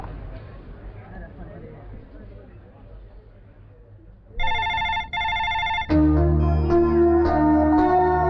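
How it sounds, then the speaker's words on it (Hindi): A telephone rings in repeated double trills, loud and close, then a musical score swells in underneath; before the ringing, a low murmur of voices and room noise, and no one picks up. "रिंग बज रही लेकिन कोई उठा नहीं रहा है"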